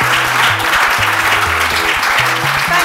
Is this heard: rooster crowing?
no